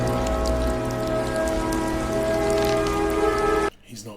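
Steady rain pours during a storm scene in the film Cape Fear, a dense continuous patter with dramatic score underneath, cutting off abruptly near the end into a quieter passage.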